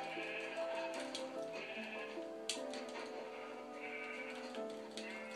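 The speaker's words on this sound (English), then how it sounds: "there's a lot of sheep" Sheep in the Minecraft video game bleat several times over a steady game background, moderately loud with no talking.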